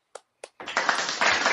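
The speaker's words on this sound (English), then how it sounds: "can we get a round of applause for the Wawa?" Two sharp single claps ring out close by, followed by a short burst of louder, denser clapping from a small group of podcast hosts.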